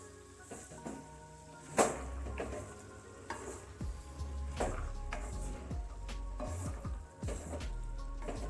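Radish pods (mungre) being stirred with spices in a pan for an aloo-mungre sabzi, giving a steady sizzle with repeated scraping and clinking stirs, one sharper knock near the start, close and fairly quiet with no talking.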